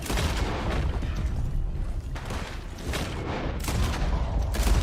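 Pistol gunfire in Red Dead Online, a rapid string of sharp cracking shots with booming echoes, loud and continuous throughout.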